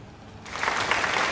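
Applause breaks out after a short quiet start, steady broadband clapping from a small group that holds to the end without voices over it.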